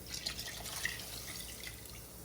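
Chicken pho broth pouring into a pot in a home kitchen, a soft continuous trickling and splashing of liquid, faint and even throughout.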